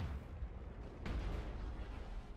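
A particle cannon fires in the BattleTech video game, a single sharp blast that cuts through a dense, rumbling battle din of low booms and constant noise.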